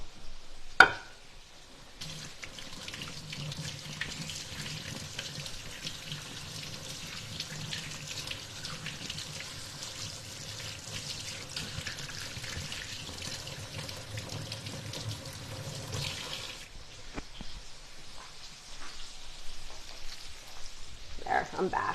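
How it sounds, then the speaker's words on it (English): Hands are washed under a running kitchen tap, with a steady, close stream of water splashing into the sink for about fifteen seconds after a brief knock, then stopping, leaving quiet room sound. "So let me get rid of this and wash my hands again."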